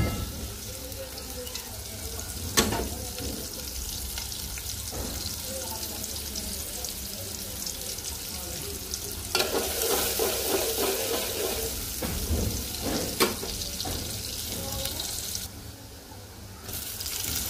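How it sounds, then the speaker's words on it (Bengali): Onions fry in oil left over from frying eggs and potatoes, with extra oil added, giving a continuous hiss and sizzle with occasional clicks and scrapes of stirring and a rise in intensity midway, close and steady. "পেঁয়াজটা ভালো করে ভাজবো।"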